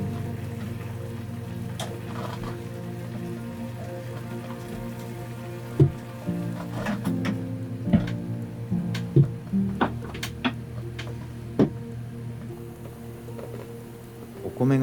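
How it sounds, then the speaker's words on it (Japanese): Heavy rain drums on the windows of a DIY kei-truck camper on a stormy night, a steady dense patter with scattered sharper drips and taps heard from inside the cab, fairly quiet and close. "雨足が強まり、窓を激しく打ちつけ始めました。"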